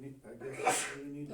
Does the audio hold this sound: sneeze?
yes